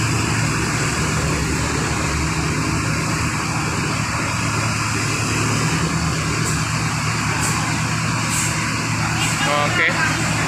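A Rapi Mercedes-Benz coach bus turning and parking at a bus terminal, with a steady, loud engine rumble throughout and someone talking over it.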